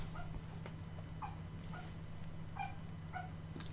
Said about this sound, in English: my dog is apparently dreaming because I hear him yelping under the blanket